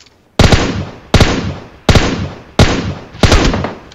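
Gunfire aimed at the player in the mobile battle royale game PUBG Mobile: five loud, sharp shots at a steady pace, each one cracking and then decaying briefly before the next, with no talking.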